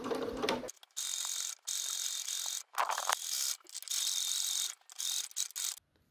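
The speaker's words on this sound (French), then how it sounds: "maintenant on va passer un point droit le long de notre couture surgée" A domestic sewing machine runs a straight stitch along a seam while making a drawstring pouch, whirring in several bursts of about a second each, separated by brief pauses. The whirring is close and moderate in level, with no talking.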